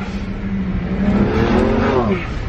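A BMW 135i fitted with a 500+ hp JB4 tuning kit accelerating hard, engine note rising steadily through the revs, heard loud from inside the car.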